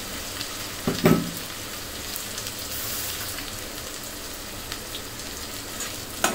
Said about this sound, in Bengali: এখন এই পেস্টটাকে অনবরত নেড়ে চেড়ে সুন্দর মতন কষিয়ে নিতে হবে।